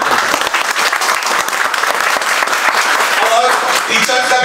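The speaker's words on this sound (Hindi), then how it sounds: "हम जोरदार ताली बजाएंगे भाई सभी लोग" A classroom audience of students claps loudly and densely, a sustained wash of applause from many hands with a few voices faintly mixed in.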